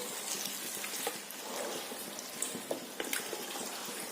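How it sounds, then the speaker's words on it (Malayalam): Steady sizzling and crackling of food sautéing hard on full flame in a hot pan for Ambur biryani, with scattered pops and stirring clatter throughout, no voices. "ഒരു 3-4 മിനിറ്റ് ഒന്ന് വഴറ്റി കൊടുത്താൽ മതി, ഇതുപോലെ ഫുൾ ഫ്ലെയിമില്."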